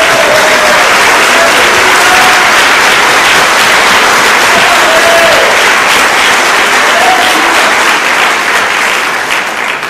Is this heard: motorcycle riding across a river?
no